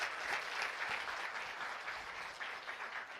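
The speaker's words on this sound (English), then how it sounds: "We should give New Skin Singapore a big round of applause, right?" A business summit audience applauds with a steady, full burst of clapping from many people in a large hall, sustained evenly for about three seconds.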